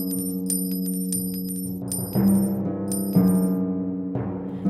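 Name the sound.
giant counting gold coins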